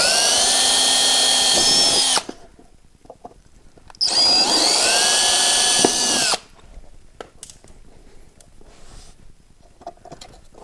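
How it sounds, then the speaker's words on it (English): A power drill with a larger bit bores through a car body panel in two loud, steady whining runs of about two and four seconds, separated by a quiet pause with faint handling noises. "We're going to try a larger drill bit and see if this works."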